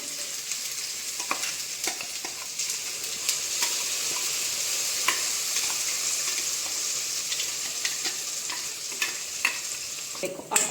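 Ground masala paste fries in oil over a low flame for an egg rice dish, a soft steady sizzle under repeated scraping stirs of a spoon in the pan, close up and without speech.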